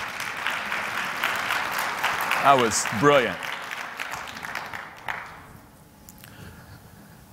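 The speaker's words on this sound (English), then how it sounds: "massive round of applause" Audience applause rises as a dense wash of clapping in a conference hall, loud and sustained before fading out, with someone speaking over it.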